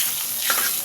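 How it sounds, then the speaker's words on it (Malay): Anchovies (ikan bilis) frying in a pan with onion and dried chili give off a steady, close sizzle with a brief stirring swell midway. No one speaks. "ikan bilis goreng dengan bawang"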